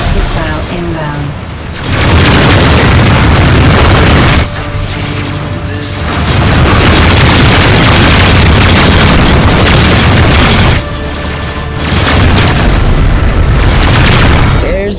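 Missile explosions in the space combat game Rebel Galaxy Outlaw, several heavy roaring booms in long bursts, loud and close, with brief quieter gaps between them.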